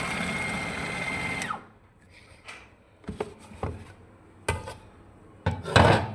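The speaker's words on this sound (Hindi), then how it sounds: "आपने चिकन और ये चने की दाल को पीसना" An electric grinder whirs loudly as it grinds chicken and chana dal, then cuts out; after that come several short bursts of the motor, scraping and clattering, and a final pulse at the end.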